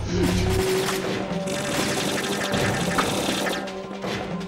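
Rapid automatic gunfire rattles on in Metal Gear Solid 2, a dense, continuous stream of shots that stays loud throughout, with game music and effects layered over it.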